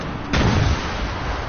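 A single heavy blast, like a grenade explosion or cannon shot in the video game Fortnite, bursts in after a short pause and rumbles briefly before fading under game noise.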